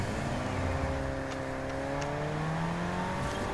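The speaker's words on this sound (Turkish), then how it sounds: "Neyse ben arabamı alıp yeniden devam edeyim yoluma." A car engine whines steadily in Fortnite, a smooth continuous drone that holds at a moderate level with slight shifts in pitch and no voices.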